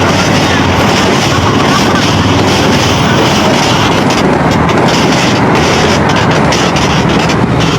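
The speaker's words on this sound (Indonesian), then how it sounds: "bentar ada kereta." A loud train rumbles past close by, a heavy continuous roar with rattling wheels filling the whole clip.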